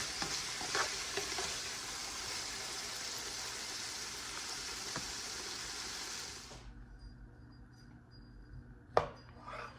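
Sausage for Cajun pasta sizzles steadily in a skillet, a dense close hiss with a few stirring scrapes, then the frying drops away to near quiet with a faint clink near the end.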